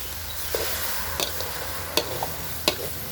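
Soft continuous hiss of ingredients, including lemongrass, dry-roasting in a pan for Thai jaew bong chili paste, with a few sharp scraping clicks as they're stirred.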